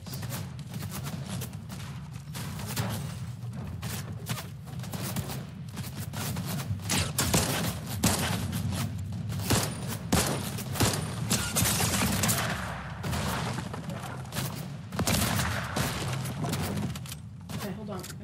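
Rapid, repeated automatic shotgun blasts from Fortnite Reload ring out in a dense, continuous barrage of gunfire with heavy thumps, while a player talks over the action throughout.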